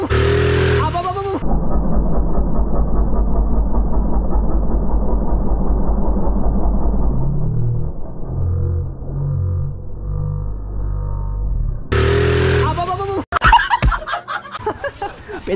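A motorcycle engine runs steadily at idle, loud and close, with sharp clattering bursts near the end.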